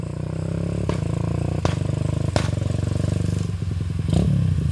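A motorcycle engine with a MBRtech quickshifter module idles and revs steadily, punctuated by several sharp exhaust pops and crackles spaced about a second apart, loud and close.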